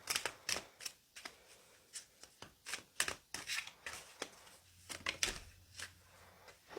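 Tarot cards being shuffled and drawn from a deck for a reading, a quick run of crisp papery flicks and snaps, close and fairly quiet, with no talking.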